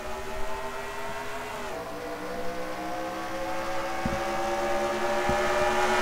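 Race trucks at Charlotte Motor Speedway drone past in a steady, layered engine roar with shifting pitch, continuous and moderately loud, with no talk.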